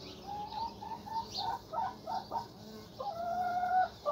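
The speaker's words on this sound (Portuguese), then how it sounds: "Rapaz, mas que passarinho que é esse?" A small bird calls outdoors with a quick series of faint, high chirps and short whistled notes, repeated irregularly with nothing else in the foreground.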